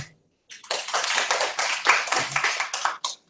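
A church congregation claps their hands together in a sustained burst of dense, loud applause lasting about two and a half seconds before it stops abruptly.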